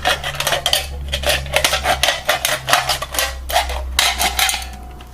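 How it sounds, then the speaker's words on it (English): Scissors cut around the top of a metal can, producing a rapid series of close, loud metallic clicks and snips in an irregular rhythm against a low steady hum. "After you pierce it, you take your scissors and you cut around the top."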